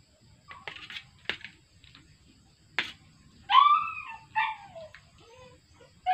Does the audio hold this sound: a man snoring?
no